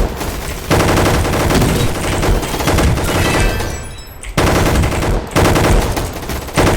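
Rapid automatic gunfire in the Roblox game Gunfight Arena, loud close bursts of shots broken by two brief pauses, with no talk over it.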